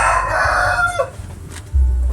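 A native rooster crows loudly and close, one long drawn-out call that fades after about a second, leaving low background rumble.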